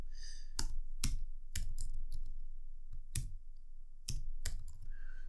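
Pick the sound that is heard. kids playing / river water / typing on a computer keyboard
typing on a computer keyboard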